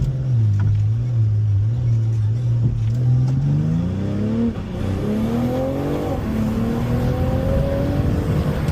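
BMW M340 launching hard from a standstill, its engine rising from a low idle drone into a strong climbing rev heard from inside the car, steady and loud throughout.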